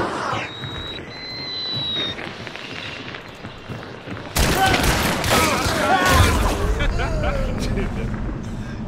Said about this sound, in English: He's trying to shoot him through the wall.